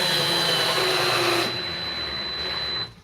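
Parkside cordless drill set to speed 2 driving a 2-inch decking screw, a steady loud whirring motor with a high whine for a few seconds, then easing to a lighter run before stopping.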